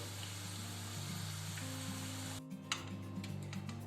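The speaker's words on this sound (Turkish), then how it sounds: "Onları kızartıyorum." Frozen potatoes and onion rings sizzle quietly in hot oil under a steady low hum, with a few sharp clicks and taps toward the end.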